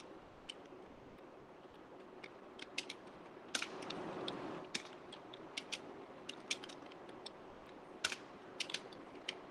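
Keys tapped on a computer keyboard while writing in MS Word, a steady run of light clicks with irregular rhythm and a brief denser flurry, close and fairly quiet with no voices.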